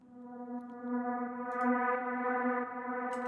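A sustained, harmonically rich synth tone drenched in heavy reverb rings out steadily in a reggaeton intro, with a smooth washed-out tail and faint high clicks over it.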